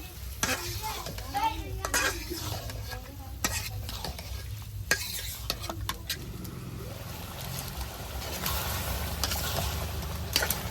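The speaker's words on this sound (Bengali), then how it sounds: "মাংসটা ভালোভাবে কষে নই" Meat sautéed in spice paste in a pan, with busy sizzling and frequent sharp scraping of the spoon, a low rumble underneath, and the frying growing denser and steadier toward the end.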